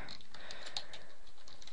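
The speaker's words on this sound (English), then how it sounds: "God, I suck at typing today." Rapid key taps on a computer keyboard while naming a new folder and saving a PHP file, steady and close, continuous clicking with no talk.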